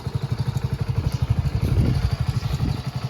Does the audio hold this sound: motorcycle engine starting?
yes